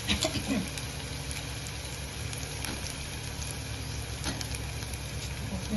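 Onions and green chilies sizzle softly in hot oil, a quiet continuous frying hiss with occasional light pops and stirring taps.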